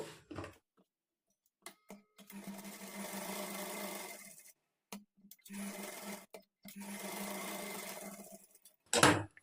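A sewing machine runs in three bursts of steady stitching, attaching lining to main fabric after thread piping, with short pauses and small clicks between runs.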